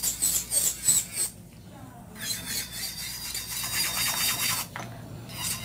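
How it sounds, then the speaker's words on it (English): A nail drill working on acrylic nails and cuticles gives a close, high-pitched grinding whine in short bursts. The bursts stop briefly and then return as a longer rasping stretch, with faint background noise underneath. "I really love this drill when it comes to cuticle work, though."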